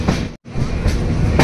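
A train rumbles at Jammu Tawi railway station, a loud continuous rolling clatter of wheels and carriages, cut by a brief dropout before resuming with rising hiss.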